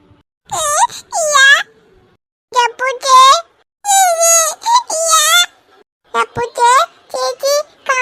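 A child cries in a Malayalam cartoon, with high, wavering wails and whimpering sobs that come in repeated bursts separated by short pauses.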